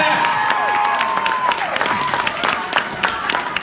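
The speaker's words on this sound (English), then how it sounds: "Can you please give him a round of applause?" Applause and cheering from an audience welcoming a young skateboarder, scattered claps over a busy crowd bed with a tonal sweep and some voices in the first seconds.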